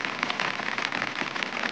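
Steady monsoon rain patters densely and evenly close by, heard from under an umbrella beside a fast-flowing village river in the Uttarakhand hills.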